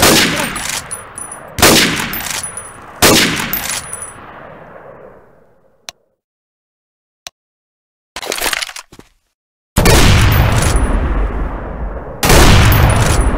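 A full-auto shotgun in Left 4 Dead 2, firing loud booming blasts at a steady pace with ringing tails and metallic clinks, then a silent pause, a short clattering reload, and two more heavy blasts.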